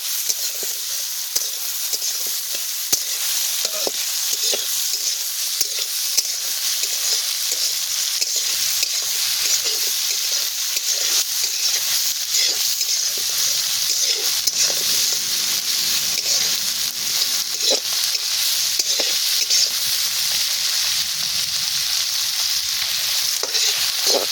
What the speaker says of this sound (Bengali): এবার দিয়ে দেবো পেঁয়াজ, কাঁচা লঙ্কা আর টমেটো। এবার ভালো করে এগুলোকে ভেজে নিতে হবে।